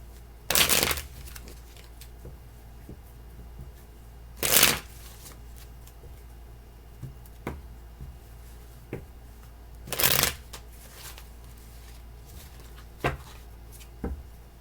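Tarot cards being shuffled during a reading, a few loud riffling bursts spaced several seconds apart, close up, with faint soft handling taps between them and no speech.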